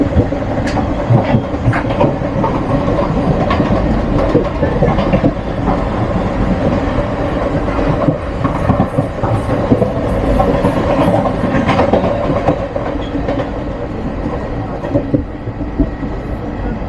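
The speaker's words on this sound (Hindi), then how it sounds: "ट्रेन निकल चुकी है बांद्रा टर्मिनस से" Inside a moving Yuva Express AC chair car out of Bandra Terminus, a steady loud rumble of wheels on track continues with faint rhythmic clicks and a low cabin roar throughout.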